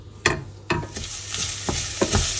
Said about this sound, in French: On va faire venir notre riz avec l'ail